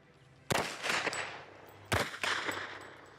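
Two sharp, loud gunshots from a firearm at shooting practice ring out about a second and a half apart, each with a crack followed by a lingering, reverberant tail.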